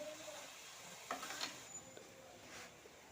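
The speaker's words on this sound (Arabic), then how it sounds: "درت في مقله حبه بصل قطعتها رقيق مع شويه ملح، وبقيت نحرك فيها حتى دبالت لي" Thinly sliced onion with a pinch of salt frying in a pan, with a steady soft sizzle broken by a few brief scraping stirs, fairly quiet throughout.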